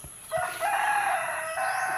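Chickens at a backyard coop where eggs are laid, with a rooster crowing in a single drawn-out call after a brief cluck, close and fairly loud against a steady background hiss.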